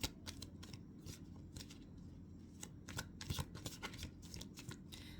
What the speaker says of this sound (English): while shuffling these cards